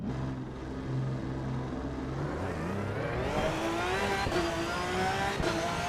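A Porsche race car engine in a racing video game drones steadily, then climbs in pitch as it accelerates through gears, loud and close with no talking.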